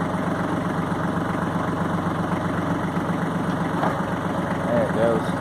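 A Branson 3510H tractor engine runs steadily after being shifted into gear, a continuous low mechanical drone with faint vibration and a brief higher whine near the end.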